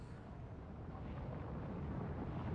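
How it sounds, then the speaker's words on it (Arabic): A volcano erupting in Fortnite, heard as a dense, low, broad rumbling roar that holds steady and swells slightly, with no distinct individual blasts. "اوه ماي جود، البركان انفجر"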